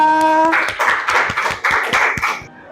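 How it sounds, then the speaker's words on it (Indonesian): A small group claps for about two seconds, a brisk burst of close, fairly loud handclaps that starts right after a held tone and fades out quickly. "Kasih aplaus untuk kelompok 2."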